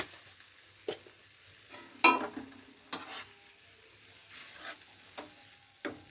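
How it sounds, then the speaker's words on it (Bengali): Fish masala gravy gets stirred in a frying pan, with a soft background sizzle broken by scattered clinks and scrapes of a utensil against the pan, some sharper than others. "মিট মশলা দেওয়ার পর আবারও নেড়ে চেড়ে নিচ্ছি"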